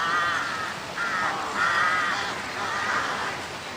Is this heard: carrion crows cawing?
yes